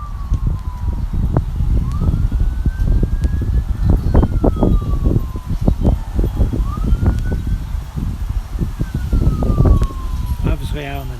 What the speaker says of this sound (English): we've got a siren coming.